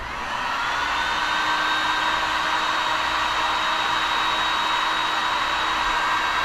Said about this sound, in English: now I'm basically going to show you how to heat shrink using the solder already filled tubing